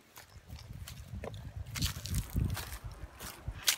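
River current flowing nearby in Concepcion, Sariaya, Quezon, a low irregular gurgling rush with splashy swells, steady and moderately close, picked up while walking toward the riverbank.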